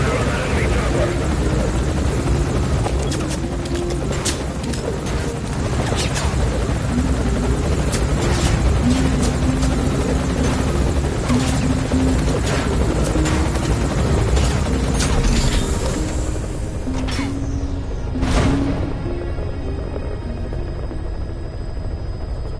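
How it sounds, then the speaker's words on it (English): An enemy helicopter in the video game Metal Gear Solid V Ground Zeroes, a loud continuous rotor thump and engine drone running the whole time, with gunfire bursts and people talking over it. "Focus all your fire on that enemy chopper"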